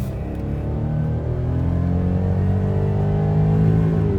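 A 2016 Jaguar XF accelerating while merging into traffic, a steady engine note rising in pitch through the gear, heard from inside the cabin with no talking.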